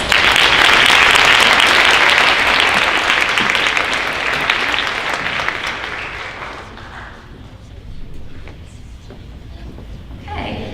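A crowd at a high school senior honors night claps loudly for the honorees, the dense applause fading over several seconds into scattered claps and room murmur.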